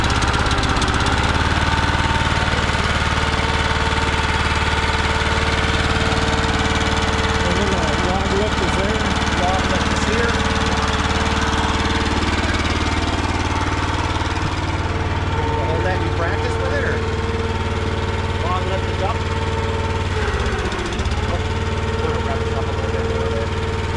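Small engine of an Eastonmade AXIS machine running at a steady, loud drone near the microphone, with a constant low rumble and mechanical clatter throughout while people talk over it.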